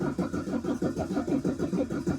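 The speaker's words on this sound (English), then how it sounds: "It's asking us to turn the engine on." A car's starter cranking an engine that is failing soon after purchase, with a fast, even chugging rhythm throughout the short stretch, close and fairly loud, and no voices.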